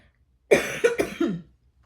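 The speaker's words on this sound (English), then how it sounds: "sorry about that. I'm having a cough" A short cluster of three or four harsh coughs, close and fairly loud, with silence before and after.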